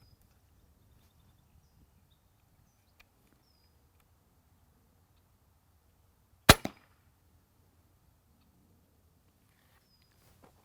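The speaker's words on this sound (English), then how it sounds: "Let's go ahead and load the bow, shoot it again" A single sharp crack as a TenPoint crossbow is shot at a target, loud and close, with a brief rattle right after and near silence on either side.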